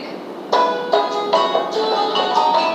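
Recorded Hindu devotional bhajan music with a sung or played melody and repeated rhythmic accents, steady and moderately loud, with no talking over it.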